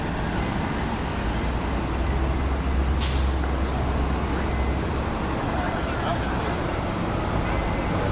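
Heavy, steady roar of a city bus with air brakes on King Street in downtown Toronto, with a short sharp hiss of brake air near the middle and constant traffic and crowd babble around it.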